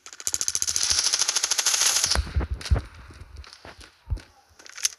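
AKM rifle in the mobile shooter game Standoff 2: a rapid automatic burst of about twenty evenly spaced shots over two seconds, then scattered single shots and footstep thuds.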